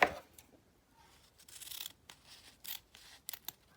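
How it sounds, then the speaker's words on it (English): Scissors snip ribbon while a gift bow is being made, a few quiet, short, crisp cuts and rustles spaced apart with soft handling noise between them, no talking. "So you'll cut it right there."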